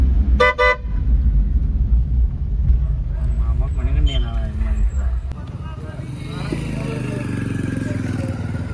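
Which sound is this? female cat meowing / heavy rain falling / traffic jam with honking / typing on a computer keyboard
traffic jam with honking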